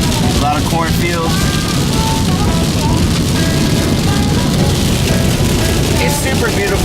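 Steady rain during Hurricane Harvey heard from inside a car driving through rural country, a continuous loud wash of rain and road noise with a few faint tonal squeaks.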